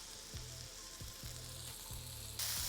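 Burger patty sizzling in olive oil in a cast iron pan, a steady broadband frying hiss with a few low thumps and a brighter burst near the end, no talking.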